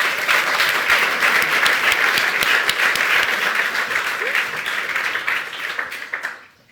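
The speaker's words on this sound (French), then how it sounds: "On peut les applaudir." A large audience at an awards ceremony applauds loudly and steadily, the clapping thinning and fading out at the end.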